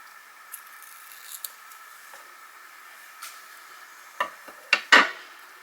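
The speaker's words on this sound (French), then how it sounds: "Je vais couper les deux brins." Scissors snip through two strands of ribbon in a quiet room, faint taps first, then a few sharp, close cuts clustered near the end.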